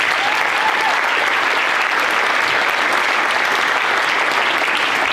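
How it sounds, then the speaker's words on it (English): An audience at a school Christmas concert gives a full round of applause: dense, even clapping fills the room at steady volume from start to finish with no voices on top. "if you would give them a round of applause."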